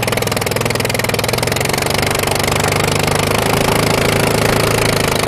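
A 1936 Aeronca C3 light aircraft with a 36 horsepower JAP engine runs loudly and steadily at an airshow, its rapid rhythmic engine pulse filling the whole stretch without pause.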